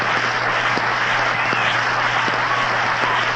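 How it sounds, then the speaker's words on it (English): A 1936 World Series baseball crowd roars continuously after a double play, a dense, steady wall of cheering noise with a low hum beneath it. "And the crowd is still in an uproar over that play"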